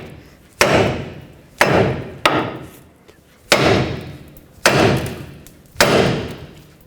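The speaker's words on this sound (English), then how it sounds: "we're going to use a hammer right here on the knuckle, and that's going to pop the ball joint free off of the knuckle" Six loud metal hammer blows strike the steering knuckle of a 1997-2003 Ford F-150 to pop the ball joint free. They come at irregular intervals, each ringing briefly and sharply, close up with no talk.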